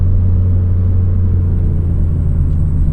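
A BMW M3 G80 inline-six engine runs at a steady idle, producing a loud, continuous deep rumble with a low hum that stays even and close throughout.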